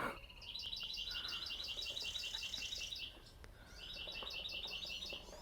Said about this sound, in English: I think it's a hawk.